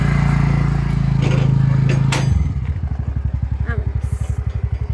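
Motorcycle engine running close by, a loud steady drone that drops to a slower idle with distinct rhythmic putts after a couple of seconds, with a voice speaking over it.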